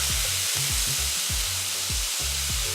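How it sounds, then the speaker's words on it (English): Shallots, butternut squash, garlic and ginger sizzle in a pan with a little oil, a steady loud crackle with low rhythmic scraping as the pieces are stirred. "I'm going to add my shallots, my butternut squash, my garlic and my ginger."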